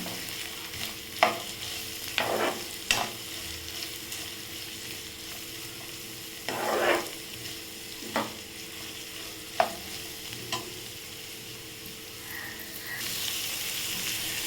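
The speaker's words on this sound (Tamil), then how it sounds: "வெங்காயத்தை சேர்த்து நல்லா பொன்னிறமாக வதக்கிக்கலாம்" Onions sautéing in a pan for green gram kara kuzhi paniyaram, with a soft steady sizzle broken by several distinct scraping stirs of a spatula, moderately close and with no talking.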